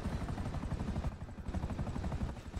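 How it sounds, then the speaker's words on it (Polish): A helicopter's steady rotor drone and rumble fills the scene continuously, moderately loud with a rough, pulsing texture and no talk over it. "Mamy helikopter."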